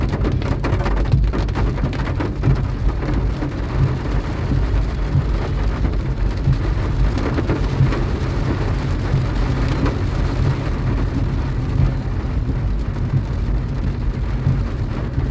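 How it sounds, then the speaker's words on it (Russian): Steady, dense rain pours without a break, a broad hiss with a low rumble underneath, loud and close throughout with no voices. "Дождь, правда, уже утихает"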